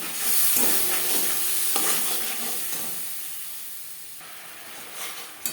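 Spices with bay leaf and black pepper fry in a pan, then a splash of water hits them and they sizzle and hiss loudly, with stirring scrapes and bursts of steam that gradually quiet down over several seconds.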